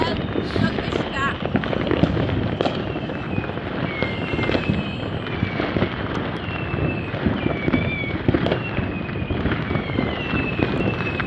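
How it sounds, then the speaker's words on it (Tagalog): Neighbors setting off fireworks and firecrackers for New Year 2025: a dense, continuous crackle of pops and bangs from several directions, with thin whistling rockets rising through it and voices mixed in. "parang mas madami nagpaputok ngayon ng mga neighbors namin"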